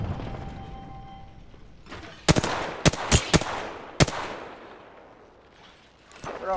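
Loud close gunfire rings out in a looting shooter video game, a handful of sharp cracking shots spaced irregularly over a few seconds amid background game noise, with no talking.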